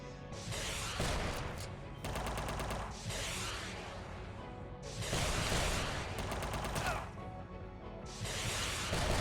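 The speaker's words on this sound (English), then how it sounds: "It's got a machine gun." Sustained machine gun fire in the video game UnMetal, loud rapid bursts in several long stretches with brief gaps, mixed with heavy impacts and game effects.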